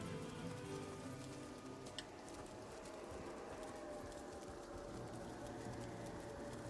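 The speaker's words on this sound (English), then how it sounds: "It goes straight to raining" Rain falling in the game Divinity: Original Sin, a steady soft hiss of downpour with dense patter, continuous and faint, no voices.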